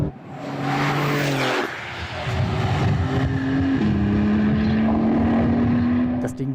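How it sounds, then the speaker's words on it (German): A Porsche 992 Turbo S pulls hard in third gear from about 4000 rpm at 80 km/h, a loud rising engine drone with a whooshing turbo that climbs steadily, heard from inside the car. "jetzt dritter Gang, 4000, 80 km/h und du trittst da rein, dann geht's sofort, aber sowas von vorwärts"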